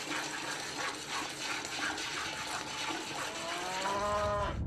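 On a California ranch, cattle low amid steady outdoor background noise, and a clear, drawn-out moo rises near the end, fairly close.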